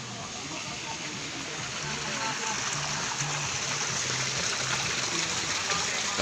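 Water pouring down a small waterfall and stream in Trece Martires, Cavite, a continuous broad rushing wash that swells slightly louder midway, with voices faintly beneath.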